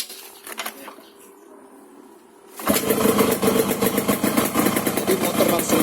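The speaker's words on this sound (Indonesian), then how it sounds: "Jadi motor langsung bisa lamsam tanpa mengalami proses kebasahan gitu ya." Yamaha RX King two-stroke motorcycle fitted with a PWK 28 carburetor, starting abruptly after a quiet stretch, then idling loudly and raspily with a steady rapid putter close to the microphone.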